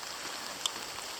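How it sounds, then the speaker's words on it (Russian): Rain pours during a storm at a seaside town, a steady, soft wash of falling water with one faint tap, heard without talking. "льется дождь."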